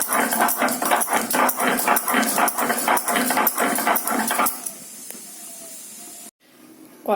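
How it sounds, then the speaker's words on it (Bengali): Mustard and poppy seeds ground by hand on a flat grinding stone, a steady run of rhythmic scraping strokes, close and fairly loud, that stops partway through and leaves quieter kitchen noise. "আমি এবার এই সর্ষে পোস্তটা বেটে নেব"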